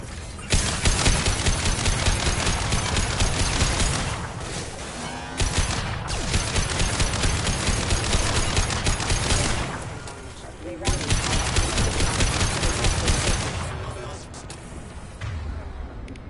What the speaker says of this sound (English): Oh look, Mac's gunning down some Solarian workers.